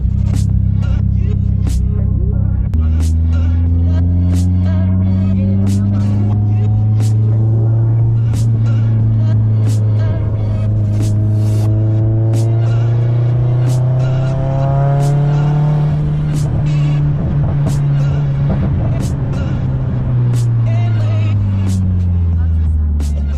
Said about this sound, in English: let's jump in the car, go put some miles on it to start off the day